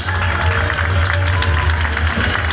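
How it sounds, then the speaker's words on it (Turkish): A crowd claps steadily in a continuous wash of applause at a film premiere in a theatre hall, moderately loud and even throughout, with a low hum underneath. "Alkış."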